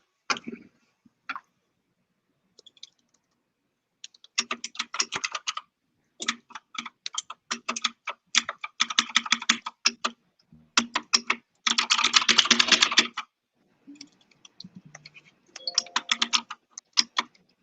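Fingers type on a mechanical computer keyboard in uneven bursts of rapid, crisp clacks separated by short pauses. It is close and clear, with no voices.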